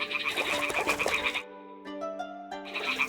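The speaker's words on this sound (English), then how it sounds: "The toads are croaking here." Toads croak in a medieval village setting in Kingdom Come: Deliverance II, a dense chorus of low, harmonic croaks that breaks off briefly midway and then resumes, fairly close with no talking over it.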